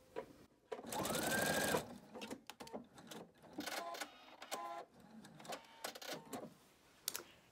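A sewing machine stitches binding onto a quilt, with a loud whirring run near the start followed by shorter bursts of stitching in place, interspersed with small handling clicks and rustles.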